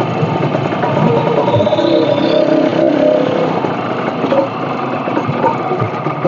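A motorcycle engine runs steadily close by at a low idle for the full stretch, with a constant mid-pitched rumble and no clear revving.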